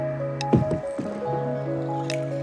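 Water coming in on a kayak, with soft squishing and gurgling splashes and a few drips close by over a steady background hum, with no talking.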